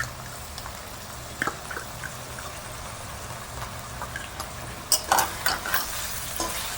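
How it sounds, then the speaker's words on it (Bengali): Vegetables and green chillies frying in a pan for egg chicken chowmein, with a soft continuous sizzle under intermittent spatula stirs and scrapes that grow busier and louder toward the end. "এবার এইগুলো একটু হালকা ভেজে ভেজে নেবো।"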